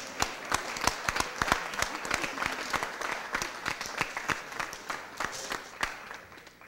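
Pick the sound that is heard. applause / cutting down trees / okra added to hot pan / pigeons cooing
applause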